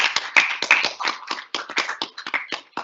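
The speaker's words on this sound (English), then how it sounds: "Can we give her a round of applause?" A small meeting audience claps in a short, loose round of applause, individual hand claps distinct and fairly close, irregular in rhythm and tapering toward the end.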